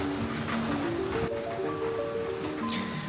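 Steady rain falls in Odesa near the sea, a dense, continuous patter on surfaces close by with a few faint tonal sounds drifting underneath.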